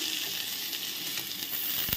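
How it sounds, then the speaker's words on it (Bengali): Cashews and raisins sizzle in hot fat alongside frying rice for a sweet yellow pulao, a soft continuous crackle closing with a brief sharp stir or scrape. "তো এর মধ্যে আমি দিয়ে দেব কাজু কিশমিশ"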